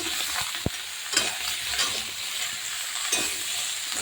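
Bottle gourd curry with salt and turmeric is stirred in a hot pan, a soft continuous sizzle with scraping spoon strokes and an occasional sharp clink against the pan, no voices.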